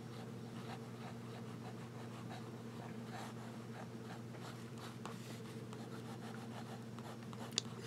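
Parker Vacumatic fountain pen with a wet nib writing on paper, a soft, continuous scratchy rubbing held steady under a low background hum, close and quiet, with one small tap near the end.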